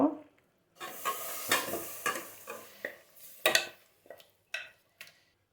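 Marinated snakehead fish hitting a hot pan, sizzling with repeated bursts of stirring and scraping, close and moderately loud, no talk.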